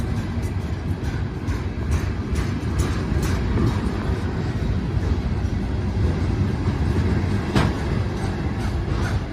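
A long freight train made up entirely of garbage cars rolling past, a steady heavy rumble with rattling and clanking that holds constant throughout.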